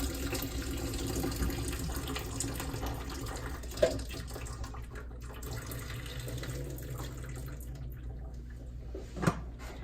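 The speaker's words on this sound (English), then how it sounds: "I like to use the lid to kind of let the water out but keep the eggs in the pot." Hot water drains from a pot of boiled eggs as a lid holds the eggs back, a steady close splashing and trickling with a couple of brief clanks, no voices.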